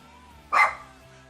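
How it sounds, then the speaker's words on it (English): A single short dog bark rings out clearly over a quiet room background, one sharp burst that fades quickly. "I just don't want you to be barking and everything, okay?"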